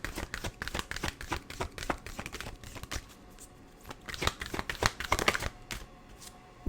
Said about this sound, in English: Let me shuffle and get one more